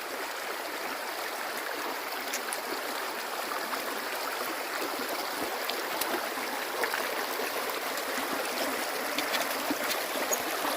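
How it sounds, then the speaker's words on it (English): Wading across a flowing creek, with steady broadband rushing water filling the whole span and faint sloshes scattered through it, continuous and close for about eleven seconds, no speech. "I think it's time to cross the creek, get wet, and get over to that other bank."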